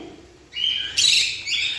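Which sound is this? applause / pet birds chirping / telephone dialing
pet birds chirping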